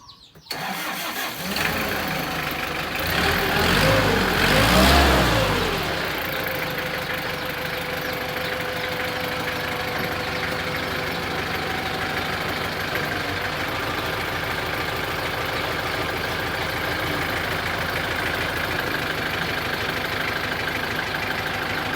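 A New Holland 48-horsepower tractor engine cranks and starts, revs up loudly for a few seconds, then settles into a steady, close diesel idle that runs on evenly.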